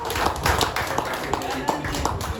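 Congregation clapping and cheering together during a church worship service, a dense, continuous wash of hands and voices with rhythmic clap accents throughout.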